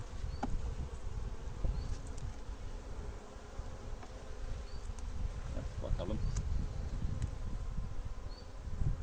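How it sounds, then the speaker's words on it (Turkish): A dense, steady drone of many honeybees buzzing close by around the frames of an open hive, including drones and workers, with light wind and a few rustles in the background. "Erkek arılar var. Genç olmamakla beraber işçi arılar var artık."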